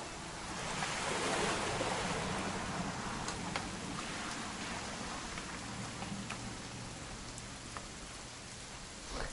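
Steady rain falls in What Remains of Edith Finch, a soft continuous patter and hiss with scattered drops, faint and unbroken with no voices.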